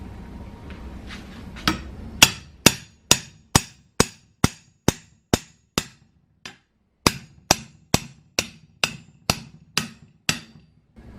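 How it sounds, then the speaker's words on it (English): Sharp metallic hammer strikes on a metal tow bar ring out in a steady series, about twenty blows in quick regular rhythm with one brief pause midway, loud and close. "I'm going to hit it with a hammer."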